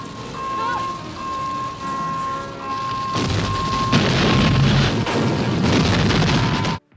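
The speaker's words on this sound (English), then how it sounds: "Ripley tosses an entire bandolier into the Queen's nest for a massive explosion" A massive movie explosion as a bandolier of grenades goes off in the Queen's nest in Aliens (1986): a tense tonal drone with a faint beeping gives way to a loud, sustained roaring blast with rumbling bursts, then cuts off abruptly.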